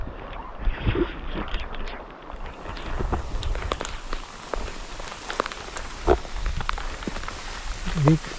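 Heavy rain falls outdoors beside an old rock wall, a steady broadband wash with scattered splashes and knocks close by. Someone speaks intermittently over it.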